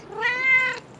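A single clear meow from a pet cat, close and fairly loud, rising and falling over about half a second, with no talking around it.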